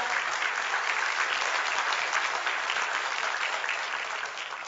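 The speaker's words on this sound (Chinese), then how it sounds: "在这里我们用掌声谢谢 Reway 公司" A large audience at a corporate leadership training event applauds in a dense, steady, loud wave that tapers off slightly near the end.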